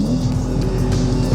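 A Porsche 911 GT2 RS with 700 horsepower accelerating hard, its engine a loud, close, sustained roar with a hint of tire squeal throughout the brief burst.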